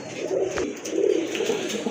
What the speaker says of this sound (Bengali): আর এক জোড়া কবুতর দেখেন একদম অ্যাক্টিভ কবুতর ডাকাডাকি কিন্তু শুরু করছে